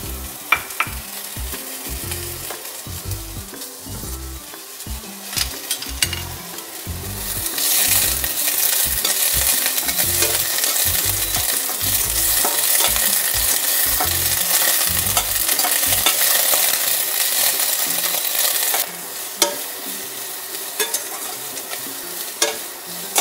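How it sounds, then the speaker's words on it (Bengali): Onions frying in hot oil with cumin seeds, a steady loud sizzle over rhythmic scraping and stirring strokes that thin out toward the end. "পেঁয়াজ কিন্তু একদম লাল করে ভেজে নিলাম"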